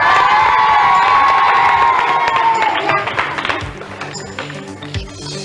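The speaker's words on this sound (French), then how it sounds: "on peut déjà les applaudir d'avance" A studio audience at a French children's TV show cheers and claps loudly for a puppet show, young voices shrieking over the applause, the din fading into scattered claps and taps.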